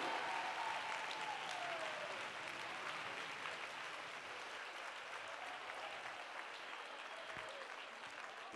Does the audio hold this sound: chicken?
no